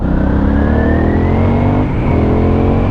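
An Aprilia Shiver 900 motorcycle engine hums loud and steady under way, a dense low thrum with a slowly rising pitch and a brief dip near the end, recorded close to the bike with no voices.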